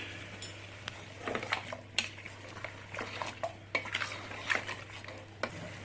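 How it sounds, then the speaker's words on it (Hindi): Lamb cheek meat frying without spices in a pot, repeated spoon scrapes and clinks over a low steady hum and a faint sizzle, fairly quiet. "अब मैं इसको तकरीबन 5 मिनट तक इतना फ्राई करूंगी"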